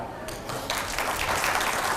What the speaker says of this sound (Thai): ขอเสียงปรบมือดังๆให้ท่านอีกสักครั้งหนึงครับ